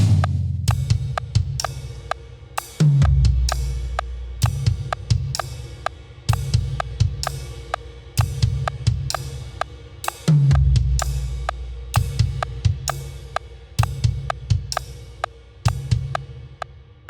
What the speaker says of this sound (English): add back in quarter notes on the ride and add another kick